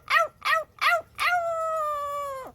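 A pet parrot mimics a dog: three short yipping bark-like calls followed by one long sustained howl, loud and close, with no talking over it.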